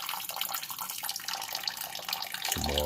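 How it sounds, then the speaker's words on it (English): Water is poured over hibiscus flowers and elderberries while making mead, a steady close splashing stream throughout that deepens and grows fuller near the end as the vessel fills. "I'm going to take some water and just pour it over this to try to get"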